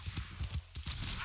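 Horse hooves clip-clopping in the video game Red Dead Redemption 2, a quick run of steady rhythmic thuds, close and moderately loud throughout the short stretch.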